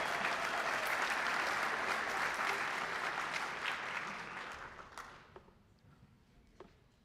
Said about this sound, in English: everybody, a huge round of applause for Coach Tay.